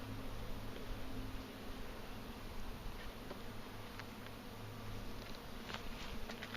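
Honey bees swarming around an expanding beehive during bottom supering, a dense, steady buzzing hum close by with no voices.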